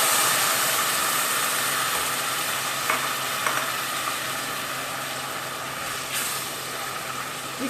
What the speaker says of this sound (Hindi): गर्म करने के बाद इसमें मैं ये प्याज ऐड कर रही हूँ।